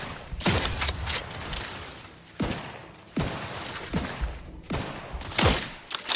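Gunfire in the video game The Outer Worlds 2: several separate bursts of close, loud shots, each a quick cluster of cracks followed by a short pause before the next volley.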